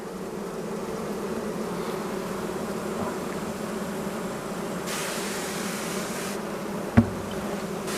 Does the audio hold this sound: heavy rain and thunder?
no